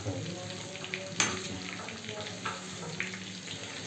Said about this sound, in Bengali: আমাদের চিকেন ফ্রাই হচ্ছে